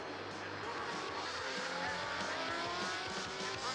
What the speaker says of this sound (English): Here comes the two strokes.